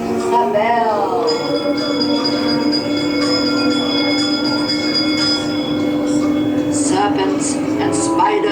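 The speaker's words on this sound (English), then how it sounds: "give us a gift by ringing a bell" Bell ringing inside Disneyland's Haunted Mansion dark ride, sustained metallic tones layered over a low steady drone and ride rumble, loud and close, with faint voices in the background.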